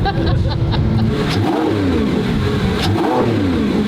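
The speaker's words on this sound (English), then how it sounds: "You have that intake noise, and then you hear the exhaust like rump" A 1,000 horsepower supercar engine revs up and down repeatedly, a throaty intake whoosh followed by a deep exhaust rumble, close and loud.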